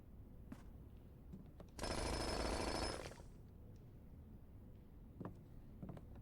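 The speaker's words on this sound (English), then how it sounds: "I like how we have the jackhammer and we're doing the tunnel." A jackhammer digging a tunnel in a video game rattles in one loud burst of about a second, then stops, leaving a quiet background with scattered faint clicks.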